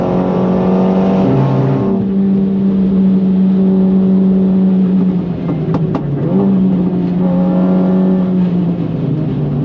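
A loud 430hp Renault Megane R.S. engine drones and revs continuously, rising and falling in pitch, heard close up from inside or near the car at the Nürburgring.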